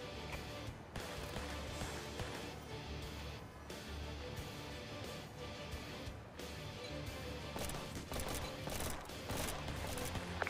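Dense, continuous gunfire and bursts of shots from a firefight in the emergency-response video game Emergency, with rapid crackling volleys running steadily throughout, crowded and busy, with no pauses between the shots.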